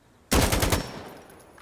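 A single close, loud burst of rapid automatic gunfire in Insurgency Sandstorm, about eight quick shots in half a second, then a ringing tail that fades out.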